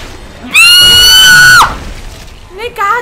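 A loud, sustained scream of about one second erupts from a person playing the horror video game Dead Space 2, followed by quieter game sounds and a shorter cry.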